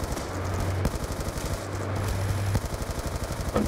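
Rapid automatic gunfire in the video game Call of Duty: Black Ops II, with steady bursts of close shots rattling throughout amid a low mechanical hum and a few louder sharp cracks.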